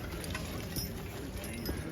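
Hooves of a draft horse team clopping at a horse pull in East Arcade, NY, a steady close clip-clop over outdoor background noise.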